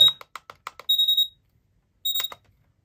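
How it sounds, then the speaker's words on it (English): A PERSUPER RGB digital alarm clock going off with a series of sharp, close beeps followed by a rapid chirping beep burst, a pause of silence, then another burst. "So in just a second, you're gonna hear the alarm."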